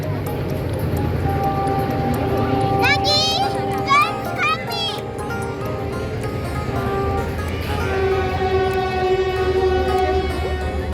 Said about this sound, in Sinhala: නේ අපි මෙන්න මේ පැත්තෙන් ට්‍රේන් එක එනවා